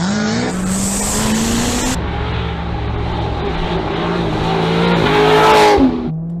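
A Corvette C6 ZR1 roaring close and loud, its engine note climbing through steady rising revs, then dropping away sharply as it backs off near the end, with a faint tire squeal mixed in.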